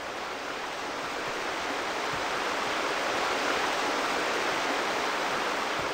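Continuous roar of cascading water from a waterfall in Farming Simulator 15, an unbroken hiss-like rush that swells slightly midway, with no voices over it.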